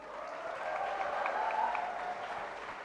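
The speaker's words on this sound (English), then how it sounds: "Can we have a big round of applause" Audience at a FICCI panel event applauding, a sustained wash of many hands clapping at moderate distance, swelling slightly in the middle and holding steady for the whole stretch.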